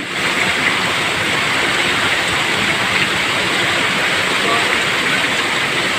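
Floodwater rushing outside a shop during very heavy rain, a loud, steady broadband roar of flowing water and downpour that holds constant throughout with no pauses.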